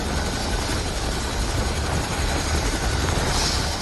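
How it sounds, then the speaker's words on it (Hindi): A helicopter arrives at a disaster rescue site after a cloudburst in Dharali, Uttarkashi, its rotor and engine making a loud, sustained throbbing roar with no talk heard. "अभी हेलीकॉप्टर यहाँ पहुँचा है और कुछ लोगों को लेकर के वहाँ से आया है"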